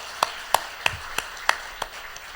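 Sparse handclaps in a church during a Sunday service, six distinct slaps spaced roughly a third of a second apart, fairly close and moderately loud over a quiet room, with no talking.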